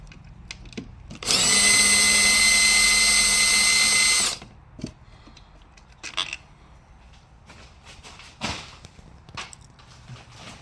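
A power drill backs screws out of the power board inside a Technics SX-PX103M digital piano. The motor whines loudly for about three seconds, and then come quieter clicks and knocks of handling.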